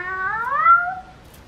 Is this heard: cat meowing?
yes